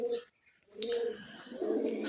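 Pet pigeons coo in low, throaty rolling calls close by, several overlapping phrases with a brief pause early on and a wing flutter.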